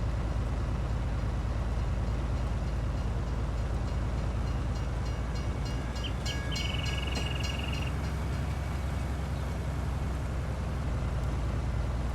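A train passing in Farming Simulator 19, heard as a continuous loud rumble with rolling wheel noise throughout and a brief high whine partway through.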